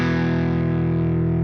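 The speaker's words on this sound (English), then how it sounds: "Power chords are typically played with distortion as well" A MIDI-programmed electric guitar power chord with heavy distortion rings out as one thick, sustained chord, loud and steady throughout with no other sounds.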